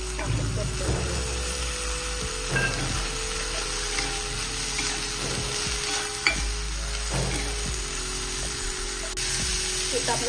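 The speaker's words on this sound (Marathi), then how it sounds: "हा मी फ्रोझन वाटाणा घेतलेला आहे, आपण याच्यामध्ये परतून घेऊया" Frozen peas with cooked carrot and cauliflower sauté in a pan, giving a steady close sizzle with repeated scraping stirs and occasional light clinks.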